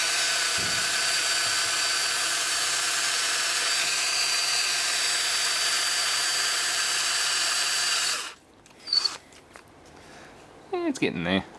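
A power drill whines steadily for several seconds while pilot drilling metal with a water-oil machining emulsion, then stops abruptly, followed by scattered clicks, rustling and a person speaking briefly.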